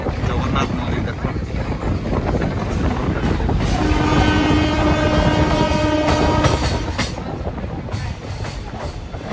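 Passenger train running on the line in Odisha, heard from on board: a loud, steady rolling roar with wind buffeting the microphone, and a sustained horn-like tone sounding from about 4 to 7 seconds.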